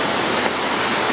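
The Kuang Si waterfall near Luang Prabang, Laos, thunders as a loud, dense, unbroken rush of falling water, close by and filling the whole moment.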